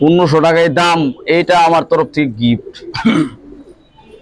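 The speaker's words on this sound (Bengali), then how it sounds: "দেখেন উড়তি লাইনের জন্য বেস্ট একটা কবুতর" A flying-line pigeon coos softly, its low murmur mostly buried beneath a man's loud, close speech and surfacing briefly in the quieter final second.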